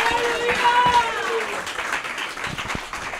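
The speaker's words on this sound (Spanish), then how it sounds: "Dale un aplauso al Rey, que Él vive." A church congregation applauds for the King, loud at first and gradually thinning, with voices and cheers mixed into the clapping.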